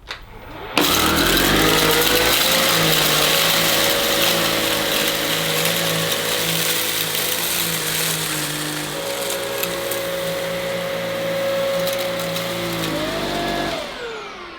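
A Samsung Powerstick Pro VS8000 cordless stick vacuum with its standard nozzle sucks up sand. Its motor switches on with a steady, loud whirring whine that holds for about thirteen seconds, shifts pitch slightly partway through, then winds down and stops.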